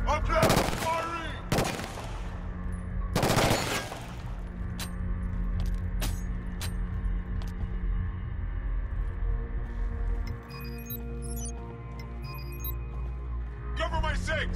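Gunfire in Killzone Shadow Fall, a few sharp, loud shots early on, then sparse smaller pops over a steady droning game ambience.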